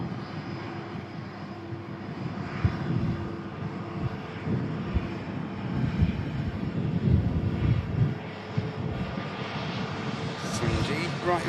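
A Qatar Airways airliner passes close by at a plane-spotting site, its steady engine roar holding throughout, with people talking over it.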